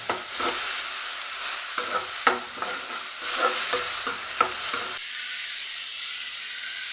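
Onions sauté in a pan for an egg gravy, with a steady sizzle broken by repeated scraping stirs of a spatula, close by. The sound cuts to near quiet for the last two seconds.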